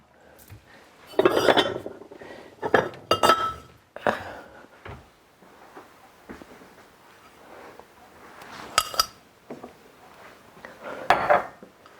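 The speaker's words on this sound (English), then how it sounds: "Okay, now let's get two bowls." Two bowls are taken out in a home kitchen, ceramic dishes clinking and knocking together in scattered bursts, with rattling cutlery and quieter shuffling between the louder clatters.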